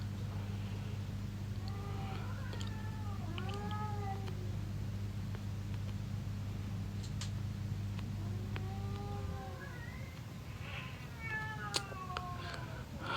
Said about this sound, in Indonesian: Bah, itu kucing siapa? Iya, kedengeran ya suara kucingnya.